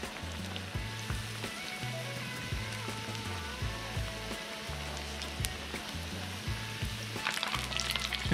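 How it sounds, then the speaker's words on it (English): California rockfish frying in hot oil gives a continuous crackling sizzle with scattered pops, steady and close, with a low intermittent hum underneath. "See that hits the bottom, starts sizzling, pops right back up."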